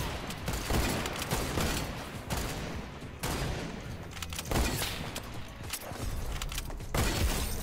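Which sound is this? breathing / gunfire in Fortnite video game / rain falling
gunfire in Fortnite video game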